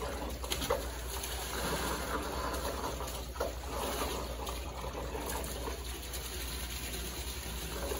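Trapped water draining out under suction, a continuous gushing, gurgling flow with a low steady hum beneath it.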